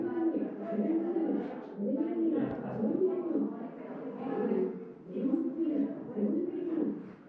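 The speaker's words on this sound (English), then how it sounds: "Is that a cave monster or a pigeon? Pretty sure it's a pigeon" A pigeon coos inside a cave in El Escorpión Park, its soft rolling calls repeating in steady phrases through the whole stretch, fairly close and echoing.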